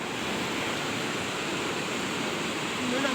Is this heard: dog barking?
no